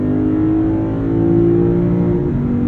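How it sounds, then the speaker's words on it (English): A 2023 Lexus IS 500 V8 in Sport Plus mode after a downshift, a loud, steady gravelly engine drone heard from the cabin with a slight rise and fall in pitch. "And the V8 comes alive."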